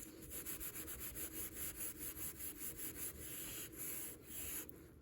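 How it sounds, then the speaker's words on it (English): Steady back-and-forth rubbing on a quartz countertop to lift a stain, a close, continuous scrubbing swish with a quick rhythmic stroke and brief pauses near the end. "but I'm just going to rub a little more."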